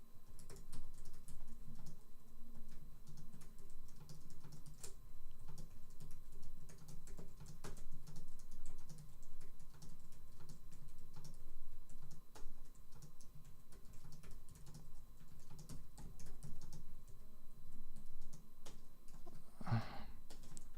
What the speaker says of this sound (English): I ended up pressing too many keys.